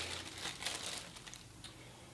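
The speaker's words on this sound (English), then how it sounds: "Comes in bubble wrap and a plastic bag." Bubble wrap and a plastic bag crinkle softly while a Canon 18-135 IS STM lens is unwrapped. The rustling is continuous, close and quiet, with no talking.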